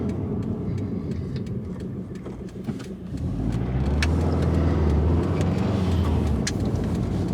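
A Subaru Impreza WRX on STI rear shocks drives through a very tight corner, its engine note a steady close rumble that swells louder and deeper partway through, with no talking.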